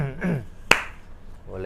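A single sharp hand clap in a religious study session, one crisp isolated smack set between stretches of a man's speech.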